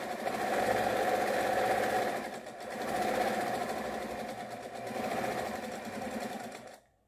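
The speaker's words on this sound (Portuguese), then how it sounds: "Aqui nós vamos costurar." A sewing machine stitches fabric for a 3D macaw bird, with close, rhythmic, rattling runs of stitching that ease and pick up again in waves, then stop abruptly at the end.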